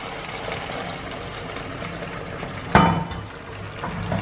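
Hot water poured into a simmering potato and capsicum curry, a sudden splashing gush near the end after a quiet stretch of low bubbling, close by and brief, with no voices.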